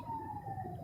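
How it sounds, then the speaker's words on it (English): Police siren wailing in the distance behind a car on an elevated road in Ann Arbor, Michigan, one steady falling tone under low road rumble. "there's the police sirens in the background that all of a sudden just stop"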